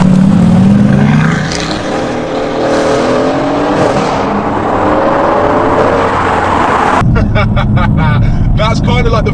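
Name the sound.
Renntech tuned Mercedes-AMG GT-S accelerating hard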